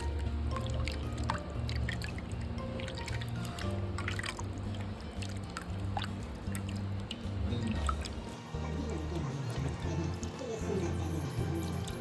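Water pours and drips from a small metal pot while a homemade burn remedy is washed repeatedly, a steady splashing trickle running close by throughout with no break.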